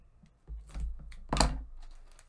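Packing tape used for shipping comic art is cut, giving a short close rustle followed by a sharp snip and crackle, then quieter handling.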